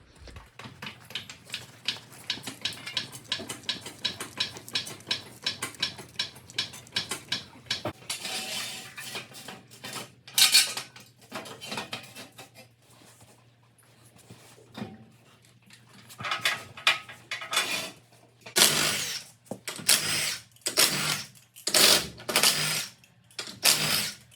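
Disassembling a Dana 44 axle differential from a 1978 Ford Bronco: a fast run of close ratcheting clicks gives way to loud, irregular metallic clanks and clinks of parts and tools, with no talking.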